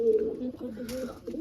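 Pigeons coo in a short, low, throaty burst close by, with people talking over them in a domestic setting as the birds are let out.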